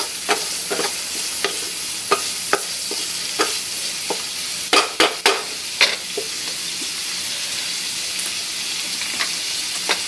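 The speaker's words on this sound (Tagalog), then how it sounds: "haluin natin." Bean sprouts saute in a hot pan while a utensil stirs them, giving a steady sizzle broken by sharp scrapes and clicks against the metal, with a brief cluster of louder knocks midway and no voices.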